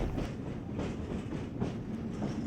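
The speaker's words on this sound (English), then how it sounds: "now I'm on my way to get back on the train" Rocky Mountaineer passenger train heading toward Banff and Lake Louise, heard as a steady, moderately quiet rumble with soft rhythmic clickety-clack of wheels on rail throughout.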